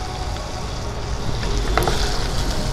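Spices, ground black pepper and green and ripe chillies frying in a pan while being stirred for dum aloo makhni, a loud continuous sizzle with a brief burst of stirring scrape partway through.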